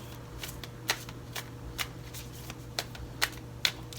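Oracle cards are shuffled by hand in a quiet room, a quick series of crisp riffling bursts repeating roughly every half second over a low steady hum.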